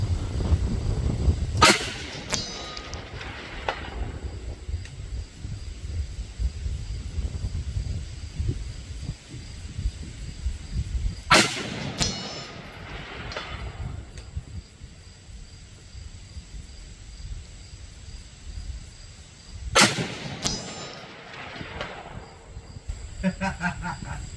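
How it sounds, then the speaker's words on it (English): Three sharp 5.56 rifle reports at roughly ten-second intervals on an outdoor range, each followed by a fainter rolling echo as the delayed sound of the bullet striking a target 500 yards away returns, over steady background noise. "That secondary impact you're hearing is the sound traveling back from the impact."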